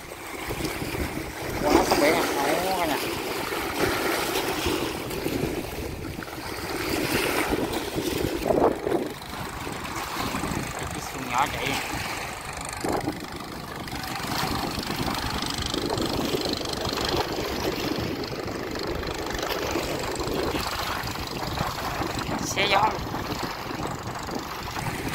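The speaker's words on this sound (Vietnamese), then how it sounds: "chiếc tàu nhỏ kéo chiếc tàu lớn nè, kéo cho nó quay đầu trở lại á" A small boat's engine drones steadily at sea as it tows a large stranded ship to turn it around. Wind buffets the microphone and waves wash nearby, while voices talk over the engine.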